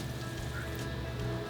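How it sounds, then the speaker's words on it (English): Water is poured and whisked into a beer mustard mixture in a saucepan, giving a steady splashing, hissing wash with faint clinks, moderately close and continuous with no talk. "Whisk in 2 cups of water"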